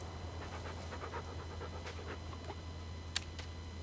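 Rapid, steady panting of a dog in a video game, a soft rhythmic breathy texture over a constant low hum, with a couple of brief sharper ticks near the end.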